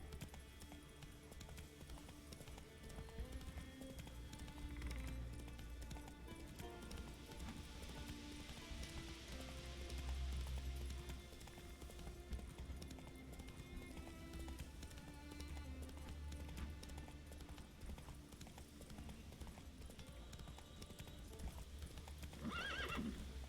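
In The Witcher 3 video game, a horse whinnies and its hooves clip-clop steadily throughout, close and clear over a low ambient backdrop.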